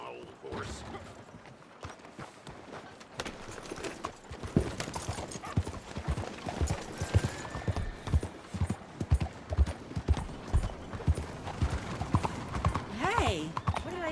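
A horse in the video game Red Dead Redemption 2 clops along at a brisk, rhythmic pace, its hoofbeats close and steady, with occasional creaks of tack, while characters talk over it.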